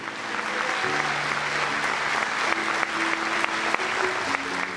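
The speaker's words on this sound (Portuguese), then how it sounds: "Dá uma salva de palmas bem forte para Jesus." A church congregation applauds loudly during a sermon, dense steady clapping with a few sustained voices or tones and scattered sharp claps standing out.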